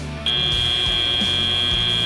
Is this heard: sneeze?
no